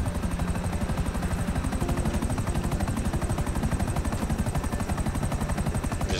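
A helicopter in the game GTA V Online gives a loud, continuous rapid rotor chop, evenly pulsing and close throughout with a steady engine drone beneath.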